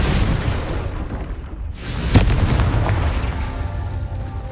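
A Confringo fire spell bursting in the Hogwarts Legacy video game, heard as a loud, deep boom that rolls into a rumbling, crackling tail, with no talking over it.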